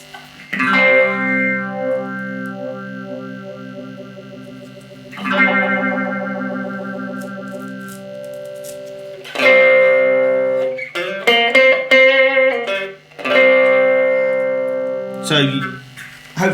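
Distorted electric guitar chords played through a Tone City Summer phaser pedal after a Twinote British Dist, with swirling, sweeping sustained chords that swell and fade in several loud passages with short choppy strums between.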